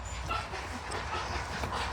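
An anxious miniature poodle whimpers and whines in short, thin, wavering cries while being groomed, fairly close over a steady low background rumble.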